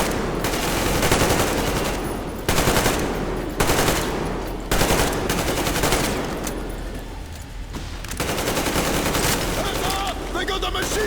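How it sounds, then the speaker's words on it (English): Sustained automatic machine-gun fire from the Metro Exodus video game, loud and close, in rapid bursts separated by brief pauses, with dense crackling gunfire filling the whole stretch. "They got the machine gun!"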